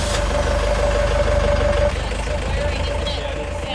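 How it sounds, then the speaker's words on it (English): A sailboat's inboard engine runs steadily with a sail drive, a loud continuous low rumble with a faint whine, dropping slightly in level partway through and carrying on. "This is the one. Engine on."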